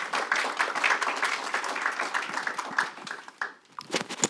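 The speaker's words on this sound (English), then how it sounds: "so double round of applause." An audience claps together in a hall at a student intern symposium, a dense, steady round of applause that thins and fades out near the end.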